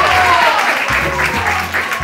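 Studio audience applause in a television show, a loud, continuous crowd clapping that runs throughout the short moment, close and dense, with a faint voice underneath.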